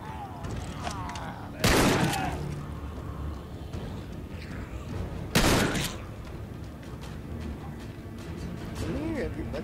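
Two loud shotgun blasts ring out a few seconds apart in The Walking Dead: Survival Instinct on Xbox, over game ambience, with a player talking throughout.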